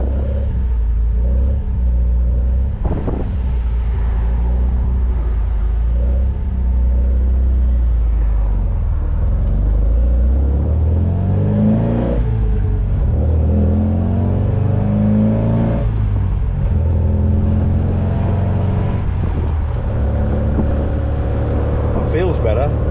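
MG car engine on a test drive, a steady low rumbling drone heard from inside the car, rising and falling with acceleration and gear changes throughout.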